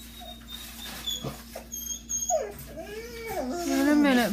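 Puppies whimper and yip indoors, thin high whines rising and wavering in short bursts that grow louder and longer toward the end, with faint background noise.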